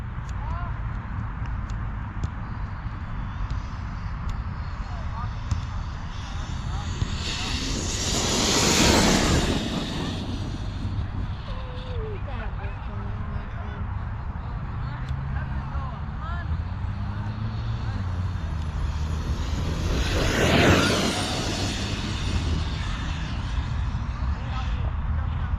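An Arrma Kraton 8S RC car on an off-road speed pass roars by twice, each a loud rising-and-falling whoosh of motor and tyres, over a steady outdoor rumble.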